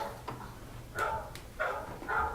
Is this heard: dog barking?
yes